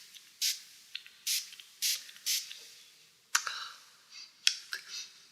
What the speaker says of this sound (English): Give yourself a couple spritz.